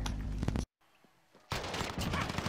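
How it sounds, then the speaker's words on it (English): Burst of simulated gunfire from a decoy grenade in Call of Duty Warzone, loud rapid popping that cuts off into near silence, then resumes as dense crackling shots. "Nice, that was a decoy grenade"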